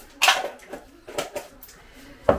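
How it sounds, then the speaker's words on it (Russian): Quick clinks and scrapes of a whisk against a bowl while beating three eggs with salt, coming in short bursts with pauses between, close by and fairly loud. "3 яйца, немножечко соли, пол чайной ложечки, и начинаю взбивать"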